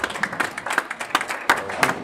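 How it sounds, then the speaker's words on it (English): A crowd at a candlepin bowling match cheers and applauds after a double strike, a dense wash of clapping with sharp bursts, loud and continuous throughout. "Crowd goes wild."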